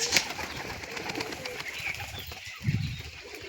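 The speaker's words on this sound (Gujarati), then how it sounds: "ધીમે ધીમે પાછા બધા કબૂતર નીચે ઉતરે છે" Pigeons coo near and far while wings flap briefly as they settle back down to land, with a bird call near the start and a louder flutter toward the end, with no speech.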